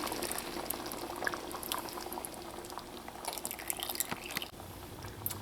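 Heavy cream going into a simmering lobster chowder with cooked potatoes, close bubbling and gentle liquid splashes with scattered drips, fairly quiet and uneven in level, no voices.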